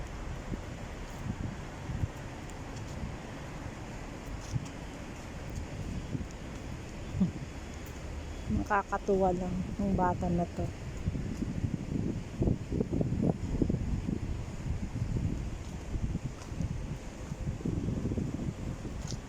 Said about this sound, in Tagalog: Lamig. Mahangin pa naman.